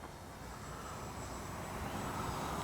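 A Dynam P-61 Black Widow RC plane flies with its landing gear down, its engine noise a steady, fairly loud broadband drone that swells slightly as it nears, with no talking.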